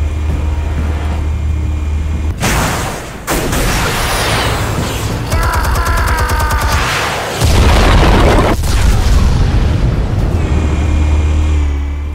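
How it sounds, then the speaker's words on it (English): Explosives detonate in a Batman scene, heavy booming blasts with rumbling low-end and scattered bursts, loud and sustained over several seconds, alone without talk. "Explosives armed. Fire when ready."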